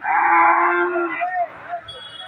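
A cow at a busy cattle market for Qurbani sales lets out one long, loud, low moo that trails off into quieter background murmurs.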